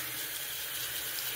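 Tap water runs steadily into a bathroom sink, rinsing it out after a wet shave with a Sicily-scented lather; a continuous close, even gush of running water.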